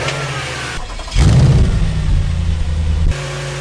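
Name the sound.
Audi S5 engine starting and idling after service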